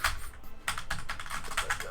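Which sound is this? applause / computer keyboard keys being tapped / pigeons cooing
computer keyboard keys being tapped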